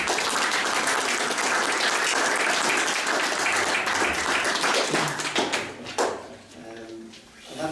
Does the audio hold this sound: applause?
yes